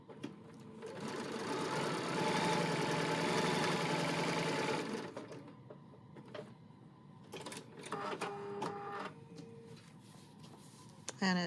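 A sewing machine stitches fabric for a paper-pieced sunflower quilt block, running in a loud steady whir for about five seconds, then quieting to scattered clicks and short mechanical bursts near the end.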